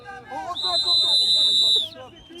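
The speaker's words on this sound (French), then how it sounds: "Elle a sifflé, elle a fait l'arbitre." A referee's whistle gives one long, loud, steady blast lasting over a second, heard over lively crowd chatter and background talk at a football-themed event.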